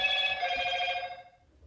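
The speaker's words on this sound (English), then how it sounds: "My phone's going off as well." A mobile phone rings during a sneaker unboxing, a bright repeating electronic tone that stays steady for about a second and then fades out, with no talking over it.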